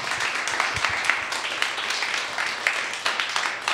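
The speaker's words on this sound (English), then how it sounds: "Put your hands together, ladies and gentlemen, for Sean Flanagan." An audience at a spoken-word café event applauds with dense, continuous hand clapping, a steady patter of many hands heard up close throughout, with faint voices mixed underneath.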